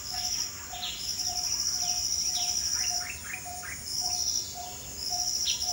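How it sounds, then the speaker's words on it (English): At dawn, crickets trill steadily and loudly close by while birds chirp and call in short, repeated bursts over a constant outdoor hiss, with no voices. "Lot of birds."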